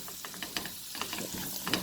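Onions just added to a hot pan for daal, sizzling and frying with a steady crackle and a few scraping stirs, close and moderately loud, no talking.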